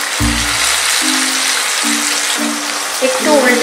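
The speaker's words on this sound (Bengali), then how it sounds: "একটু উল্টে পাল্টে চারদিক দিয়ে একটু হালকা করে ভেজে নেবেন" Fish pieces for doi maach frying in hot oil, a steady close sizzle running throughout with brief low clunks of the pan and a louder crackle near the end.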